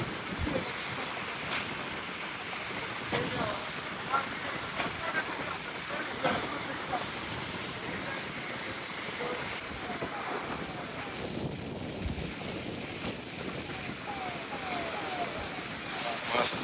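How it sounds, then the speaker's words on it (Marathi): Strong wind buffets the microphone outdoors at a café, a continuous rough roar of gusts throughout, with a person talking faintly under it. "भयंकर हवा सुटली."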